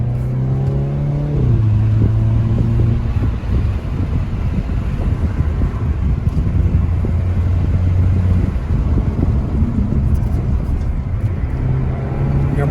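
Car engine droning steadily with wind noise from inside the cabin during a driving lesson, the pitch shifting as the driver lets off and presses the gas; loud and continuous, no talk.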